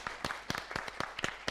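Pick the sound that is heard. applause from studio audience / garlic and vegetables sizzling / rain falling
applause from studio audience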